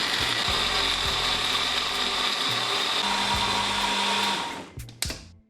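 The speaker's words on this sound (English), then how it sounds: "Now cover and blend this until nice and smooth." A blender whirs loudly and steadily at close range, churning a spicy chicken sandwich sauce made with stock and pickle juice, then cuts off with a few clunks near the end.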